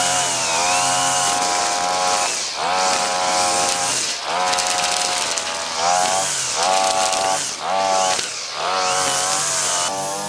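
A power tool cuts weeds outdoors in early summer, its loud, steady whining drone held close and continuous, with the pitch rising and falling in repeated surges as it bites into growth.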